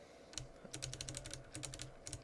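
Computer keyboard typing into a terminal on Manjaro Linux, a rapid run of close, crisp key clicks in uneven bursts with no talk.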